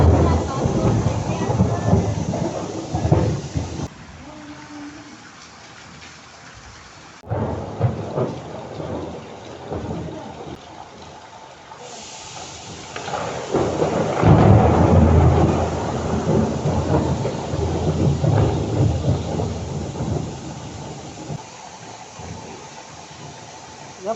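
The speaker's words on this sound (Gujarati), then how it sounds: "પછી વરસાદ આવ્યો ભયંકર" Heavy rain pours steadily while deep thunder rumbles roll and swell, with voices talking at moments over the downpour.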